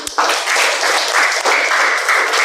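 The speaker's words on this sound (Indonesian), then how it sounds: "Tepuk tangan dulu untuk kita semua." A classroom of students claps together in a dense, steady burst of applause that lasts a couple of seconds and briefly dips midway.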